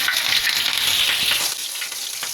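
Green chilies sizzle and fry steadily in a hot pan for a Bengali lentil bhorta, a continuous close hissing crackle that eases slightly toward the end.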